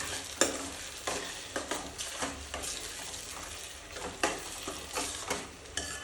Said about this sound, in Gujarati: એ ક્રશ કરેલું છે એ પણ ઉમેરી દઈશું અને બધું જ મિક્સ કરી દેશું